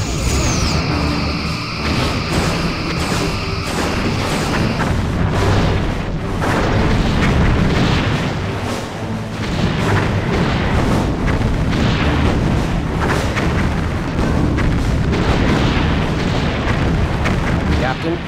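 A device explodes in the Star Trek Bridge Commander space combat game, a loud sustained rumbling boom that rolls on for many seconds with crackling bursts and a falling tone at the start, with bridge crew voices over it.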